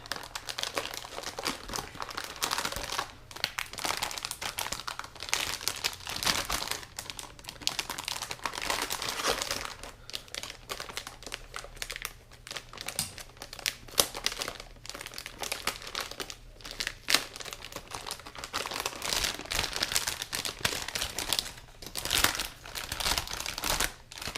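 Crinkling and crumpling of the packaging as an ASUS ROG Strix GTX 1080 Ti OC graphics card box is opened: steady, close rustling of plastic and paper for about twenty-four seconds, with no talking.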